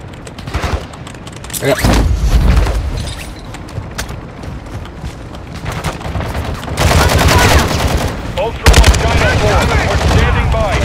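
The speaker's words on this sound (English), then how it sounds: "Somebody's shooting us." Heavy gunfire in Call of Duty: Modern Warfare II during a helicopter extraction crackles in loud, rapid volleys and bursts, with a voice briefly speaking amid the shooting.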